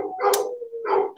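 A dog gives two quick barks in a row, close and fairly loud, with a short gap between them and no talk.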